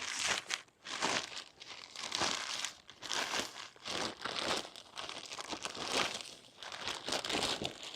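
Plastic bags crinkle and rustle loudly and close up as they are rolled outwards during garden work, a continuous crumpling texture with brief quieter gaps.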